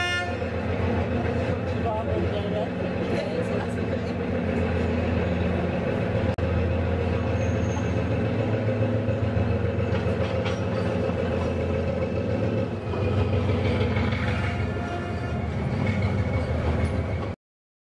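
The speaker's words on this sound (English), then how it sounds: "Here we see a diesel hauling the Bournemouth Belle." A diesel locomotive hauls the Bournemouth Belle train, a continuous loud, low rumbling drone with horn-like tones, steady throughout and heard close by.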